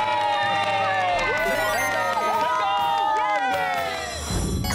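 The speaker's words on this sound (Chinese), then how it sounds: "那我们大家替自己掌声鼓励。" Studio crowd of children cheering and shouting at the close of a kids' science show on chemistry and magic, with dense overlapping voices and music carrying steadily throughout.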